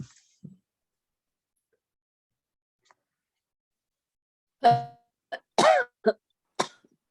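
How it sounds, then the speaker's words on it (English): A few sharp coughs and a throat clear break a mostly silent stretch, close and fairly loud. "No, I'm coughing."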